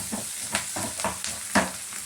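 Chana dal frying in a pan, with a steady sizzling hiss and a few scraping stirs at irregular intervals, close and moderately loud, with no voices.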